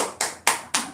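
Applause from an audience after someone shares thoughts on a film, heard as three sharp, evenly spaced claps with short decays.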